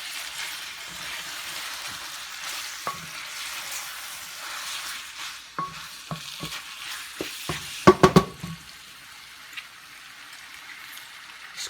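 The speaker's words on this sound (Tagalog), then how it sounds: "Put some lemon zest with olive oil." Shrimp pasta sizzles softly in olive oil with lemon zest, a steady frying hiss broken by a cluster of sharper clicks and spatters near the end.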